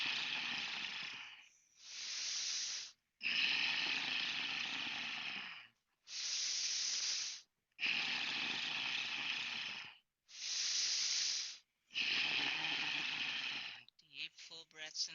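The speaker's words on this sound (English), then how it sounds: "You're breathing through the nose, but it's like a gargling," A person breathes through the nose with a gargling, purring quality, taking about seven long, even breaths separated by short pauses, soft and close.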